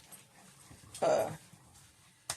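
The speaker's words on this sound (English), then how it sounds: "My Max wants to go outside, but he still doesn't seem to understand that he cannot see the dog next door" A dog whimpers to be let outside, one short, fairly loud whine in the middle of an otherwise quiet indoor scene, followed by a brief soft yip near the end.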